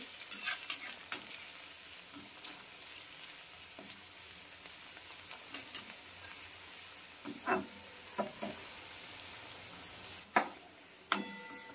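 Carrots and beans frying in a little oil in a pan, with a quiet steady sizzle broken by occasional scrapes and stirs, fairly faint and close, no talking.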